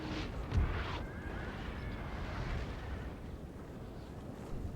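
Cannon artillery firing in Napoleon: Total War at the Battle of Waterloo, a distant muffled boom with a low rumble trailing off over a steady battlefield drone.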